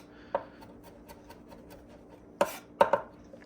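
A knife mincing food on a cutting board while cooking smothered pork chops, a few sharp, close chops and taps scattered irregularly, with two or three quick strikes clustered near the end.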